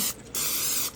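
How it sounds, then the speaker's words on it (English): A short, close hiss of canola oil spraying onto a pan comes in two quick bursts, the second longer, with no voices over it. "I'll spray our pan with a little"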